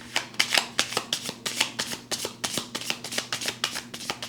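A deck of tarot or oracle cards being shuffled, with close, crisp riffling bursts repeating in a steady rhythm, loud and alone.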